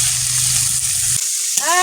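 Prawns fry in hot oil in a wok, giving a loud steady sizzle and crackle close by. The sizzle briefly cuts out, then comes back with a bright ringing tone near the end.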